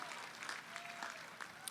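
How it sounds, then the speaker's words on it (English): Applause from the audience at a university business school commencement ceremony, a brief, steady patter of many hands clapping at a moderate distance, with no voices over it. "Can we give them a round of applause for that incredible reception today?"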